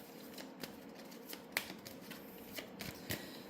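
Tarot cards are shuffled and drawn in a quiet room, soft papery riffles and slides with a few sharper flicks, faint and close.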